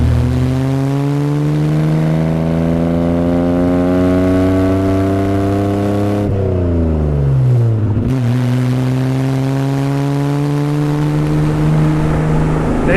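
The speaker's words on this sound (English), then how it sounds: "The exhaust note out of this twin pipe exhaust is just absolutely fantastic." A 1961 Austin-Healey 3000 Mk I BT7's twin exhaust burbles at a steady idle, then revs sharply up and falls back before settling into a deep, even rumble.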